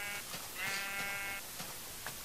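Sheep bleating in the Minecraft video game, a couple of short wavering bleats close by over quiet background game sounds.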